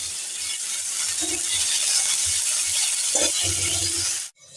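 Cauliflower frying in a little oil in a covered pan, a steady, loud broadband sizzle and hiss with faint clinks underneath, cutting off abruptly at the end.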